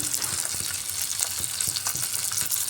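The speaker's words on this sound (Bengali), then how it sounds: "এবার তেলাপিয়া মাছগুলো আমি তেলের মধ্যে ভেজে নিচ্ছি" Tilapia fish pieces frying in oil for a fish curry with ridge gourd and potato: a steady, dense crackling sizzle with close-up spatter, no voices.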